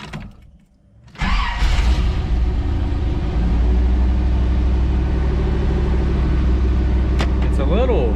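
A third-generation Chevrolet Camaro with a cherry bomb muffler starts up and settles into a loud, steady, close rumbling idle, running slightly louder than stock. A few faint clicks sound over it near the end.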